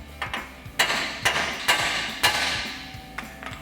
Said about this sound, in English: take a hammer and strike the side of the knuckle here to pop our ball joint loose